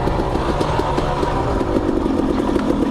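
A dirt bike in second gear runs downhill over a rocky trail section, its mid-pitched engine chugging steadily with clattering rattles from the terrain, close and continuous with no talk.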